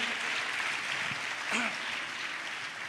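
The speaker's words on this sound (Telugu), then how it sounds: "చప్పట్లు కొడుతూ యేసయ్యకు స్తోత్రాలు చెప్దాం" A church congregation claps in praise at a Pentecost service, a steady broadband patter of many hands filling the room at moderate loudness, with a faint voice briefly rising over it.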